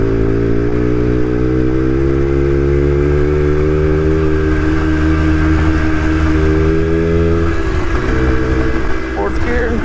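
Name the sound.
X90 motorcycle engine cruising in fourth gear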